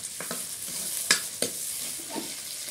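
Mustard oil tempering in a pan on a traditional clay stove, a steady sizzle with a few sharp crackles and stirring scrapes, close and moderately loud, no talking.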